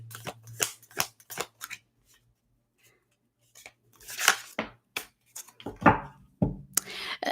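Crisp bursts of tarot cards being shuffled and riffled, several quick rounds with a pause in the middle, close and clear.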